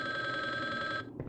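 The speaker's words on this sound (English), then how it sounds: "The phone is ringing." A telephone rings inside the video game Resident Evil Survivor, a loud, steady electronic bell trill held for about a second before cutting off abruptly, heard alone.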